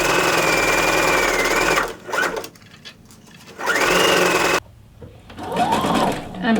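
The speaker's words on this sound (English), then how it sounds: "what I'm going to do is just stitch all the way around using a zigzag stitch" A sewing machine runs a zigzag stitch around the raw edge of fabric for a reusable produce bag, in two loud steady bursts of whirring with a short pause between them and a brief quieter stretch.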